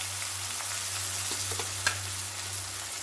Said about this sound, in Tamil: இப்போ கொஞ்சம் வெங்காயம் போட்டுக்கிறேன் வெங்காயம் நல்லா வதங்கட்டும்